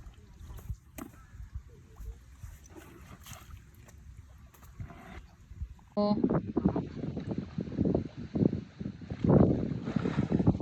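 Gusty wind buffets the microphone, at first fainter with scattered knocks, then turning loud and roaring, with a voice speaking briefly amid the noise.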